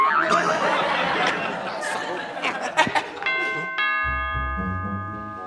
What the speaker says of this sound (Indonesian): bel bunyi tuh.